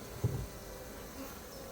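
Bees from a wild swarm hive buzz faintly in a low, continuous hum, with a soft thump near the start.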